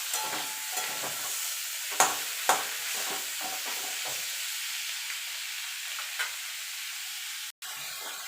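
Bottle gourd leaves are stirred and fried in a pan, giving a steady close sizzle with occasional sharp clicks and scrapes of the spatula throughout.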